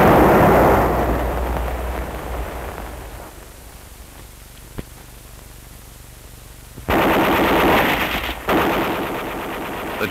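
A machine gun fired during 1950 infantry field training at Camp San Luis Obispo: loud rapid bursts of gunfire at the start, fading to quiet with a single sharp crack, then renewed dense rattling bursts toward the end.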